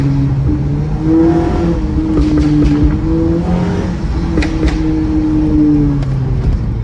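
Tuned Toyota Camry with a pops-and-bangs exhaust tune, its engine droning loudly up close as revs rise and fall, with a few short crackles breaking through near the middle.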